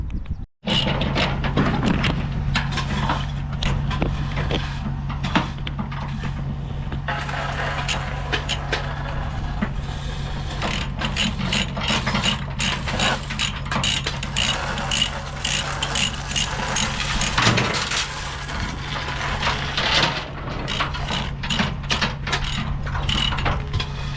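A ratchet is cranked steadily and continuously for over twenty seconds, its dense rapid clicking close and loud over a low mechanical hum, with no voices.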